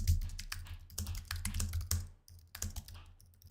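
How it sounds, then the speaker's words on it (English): Rapid typing on a computer keyboard while entering location coordinates into an app, a steady run of close, crisp key clicks with a brief pause near the middle, heard alone. "I'm going to actually type in coordinates."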